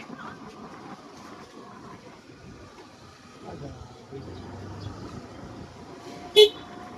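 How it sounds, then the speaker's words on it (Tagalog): Quiet traffic and faint background chatter give way to one short, loud horn blast from a new motorcycle near the end. "lakas ng busina"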